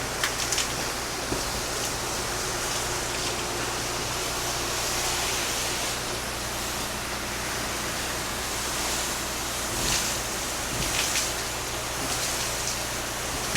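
Steady, even hiss of a water spray from a wide-angle nozzle rinsing cedar wood siding and windows from the top down, continuous and fairly loud with slight surges, no talking.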